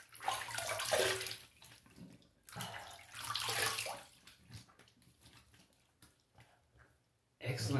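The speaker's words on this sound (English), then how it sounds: "let me rinse up" Running water rinsing the face and a razor after a wet shave at a sink, splashing in loud bursts with quieter gaps between, and a voice speaking briefly alongside.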